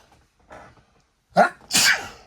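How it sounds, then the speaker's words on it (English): A single sharp sneeze, with a quick intake of breath just before it, close and loud in an otherwise quiet room. "Excuse me, you got to sneeze."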